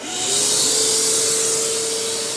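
A Dewalt 9 gallon shop vacuum spins up and runs with a loud, steady whooshing hiss and a sustained motor whine, close by and alone.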